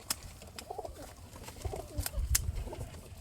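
Racing pigeons coo softly in a loft, with several low throaty calls and a few sharp scratchy bursts over a steady background hum, nearby and fairly quiet.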